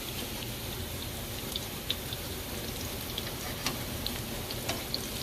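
Salmon cakes fry quietly in a pan, giving a soft, steady sizzle broken by faint scattered ticks and crackles, with no talking.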